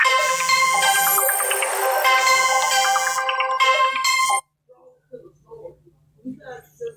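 A phone ringtone plays loud and clear as a bright, melodic electronic tune for about four seconds, then cuts off abruptly, leaving faint low murmuring sounds.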